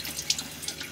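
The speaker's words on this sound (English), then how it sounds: "I'm using salt water to do the first wash on the dishes" Running water splashes into a sink aboard a boat at sea as dishes are washed in salt water, a steady close stream with light clinks and drips, no talking.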